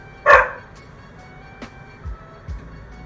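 A dog gives one sharp, loud bark nearby, followed by a few faint softer thumps and noises in a quiet room.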